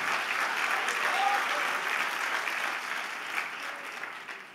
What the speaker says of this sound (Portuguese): Então dá um aplauso a Jesus